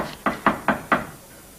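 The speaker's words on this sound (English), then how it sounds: "Someone at the door." Four firm knocks land on a door in a quick, even rhythm, close and loud, followed by quiet.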